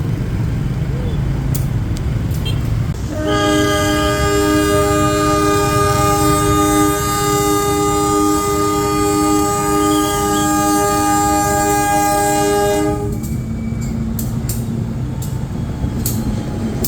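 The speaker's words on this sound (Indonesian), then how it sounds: "Para pecinta kereta api pun menyaksikan lokomotif ini hilir mudik di jalur tes" A locomotive shuttles back and forth on a test track at Balai Yasa Yogyakarta, its engine rumbling while a loud, sustained horn blast sounds for about ten seconds before the rumble continues alone.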